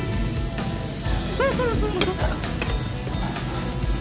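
Meat and mushrooms sizzle steadily on a Thai moo kata grill at a Thai buffet restaurant in Sinsa, Korea, a dense crackling hiss with brief clatter amid restaurant background noise.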